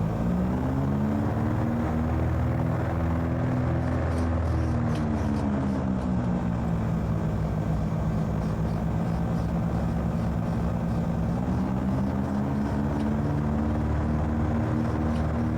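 Aircraft engines during a rolling takeoff in Microsoft Flight Simulator 2020 on a flight from Manchester, a loud continuous low rumble with a steady engine drone whose pitch dips and then rises again, with no voices.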